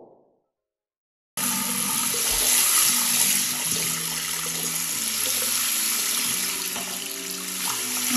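A vibrating facial cleanser rinsed under a running tap, a steady loud gush of water that starts abruptly after a moment of silence, with a faint low hum and splashing throughout.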